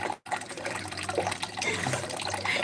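Tap water runs steadily into a container as it fills, a close, continuous splashing trickle after a brief silent gap at the start.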